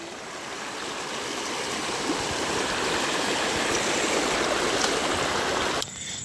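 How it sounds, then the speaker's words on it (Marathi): A swollen river flowing at night, a steady loud broadband rush of water close by that holds constant, then drops abruptly near the end. "हो दिसतंय, पूर्ण नदीला पाणी आलंय।"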